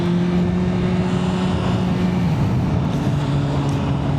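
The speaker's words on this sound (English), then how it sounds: "this is a pretty quiet bike" Motorcycle fitted with a full Akrapovic header and slip-on exhaust system, heard while riding out of town; a steady, fairly quiet engine drone holds throughout with a slight pitch drop partway, under constant wind rush.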